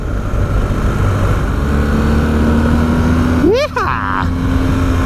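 A 2019 BMW R1250GS Rallye motorcycle engine drones steadily while riding, close and loud under wind noise, with a rising whine briefly cutting through near the end.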